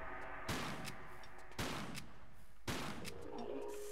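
Three evenly spaced rifle shots boom about a second apart in Tomb Raider 3, in the RX-Tech mines, each a loud, sharp blast with a short decay over a low ambient hum.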